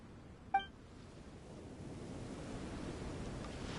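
Steady surf and wind wash through a seaside scene in the video game Genshin Impact, a soft continuous roar that builds slightly over a few seconds, preceded by a brief bright chime.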